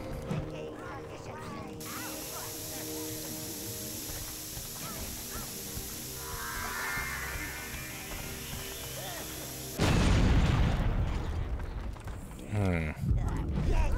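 Stone wall of a dwarven stronghold being smashed apart in the video game Overlord, a sudden loud crashing burst of rubble and debris after a long stretch of steady game ambience and music.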